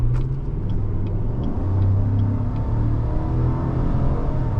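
A 2019 Chevrolet Silverado RST with a 5.3-liter V8 rumbles steadily from inside the cab on a test drive, a deep, constant engine drone with faint clicks above it and no talking.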